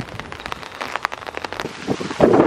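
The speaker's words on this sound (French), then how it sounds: "il se met à pleuvoir là" Rain falling outdoors across a matcha tea plantation on Jeju, with dense patter of drops and a steady hiss that grows heavier toward the end.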